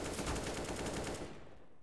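Counter-Strike gunfire, a rapid burst of automatic shots in quick rhythm, loud and close, cutting off near the end.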